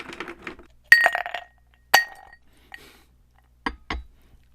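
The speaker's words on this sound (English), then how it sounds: "First, I'll fill my coffee cup with ice cubes." Ice cubes dropping into a glass used as a coffee cup, giving several sharp clinks and rattles, with a cluster of impacts early on and a few separate single clinks after it, all close by and with no talk.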